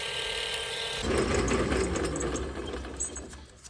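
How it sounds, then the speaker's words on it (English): A garage lathe turns a stainless steel press-fit part, its whirring, ratcheting mechanical drone shifting into a rougher, busier cutting sound partway through, close and alone. "here you can see me machining the male side of the press fit"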